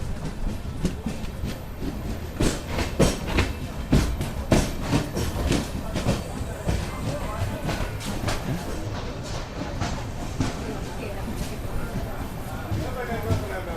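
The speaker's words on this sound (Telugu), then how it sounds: "రేణిగుంట జంక్షన్కి మన ట్రైన్ వచ్చేసి ప్లాట్ఫామ్ 3కి అయితే వచ్చింది" A Sapthagiri Express with new LHB coaches rolls into platform 3 at Renigunta Junction, a steady rumble of wheels with repeated rail clacks and knocks close by, while people talk over it.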